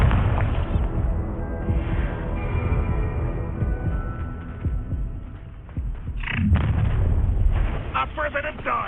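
Bombarda blast spell in the game Hogwarts Legacy: heavy booming explosions and rumbling impacts over a dense, continuous mix of game effects and music, loud throughout with sharper bursts near the end.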